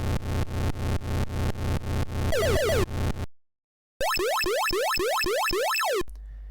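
Atari 2600 Bowling game sound effects: a run of rapid rolling blips, then a burst of chirping tones, a short silence, and a rhythmic sequence of descending boing-like bleeps, all loud and electronic.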